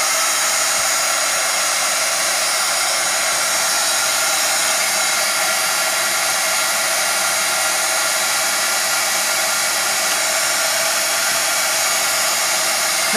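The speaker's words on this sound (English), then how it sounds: "Just heat up the glue and it comes right off." Heat tool blowing hot air to melt glue off an accordion tag box, a loud, steady, unbroken whoosh held throughout.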